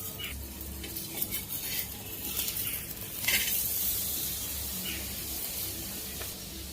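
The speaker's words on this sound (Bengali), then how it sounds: "এইভাবেই আমি সব পরোটাগুলোকে ভেজে নেব।" Paneer paratha frying in a pan, giving a steady low sizzle with soft crackles and brief hissing bursts throughout, fairly quiet and close, with no talking.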